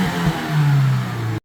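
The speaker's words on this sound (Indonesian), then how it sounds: "Setelah selesai, suara mesin super halus, getaran juga hampir tidak ada" A 2010 Toyota Innova engine, freshly serviced with Blackcore treatment, runs close and loud with a brief rev that climbs and settles into a smooth, even hum before cutting off abruptly.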